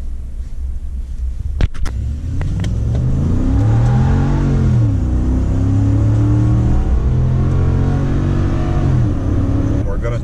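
A 2013 Ford F-150 extended cab four-wheel drive with the 5-liter engine revs and accelerates hard, its loud engine note climbing through several gear shifts with rising and falling pitch sweeps, preceded by a few sharp clicks and knocks.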